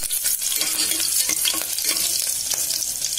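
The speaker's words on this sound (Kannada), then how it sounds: "ಈಗ ಹಸಿ ಮೆಣಸಿನ್ಕಾಯಿ ಹಾಕೊಳ್ತಿದೀನಿ." Green chillies tossed into hot oil with cloves, cinnamon, cardamom and bay leaf for egg biryani, a close, steady crackling sizzle broken by a few sharp stirring scrapes, with no voices.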